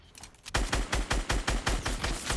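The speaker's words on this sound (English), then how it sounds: "I'm getting shot from below." Gunfire in the battle royale game Fortnite, a rapid rhythmic burst of about eleven close, loud shots after a short quiet opening, with no talk over it.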